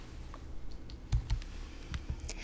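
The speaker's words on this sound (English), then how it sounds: "I'm going to click create" A computer mouse clicks the create button while setting up a Bluehost hosting account, giving a few soft, close clicks in a quiet room with no talking.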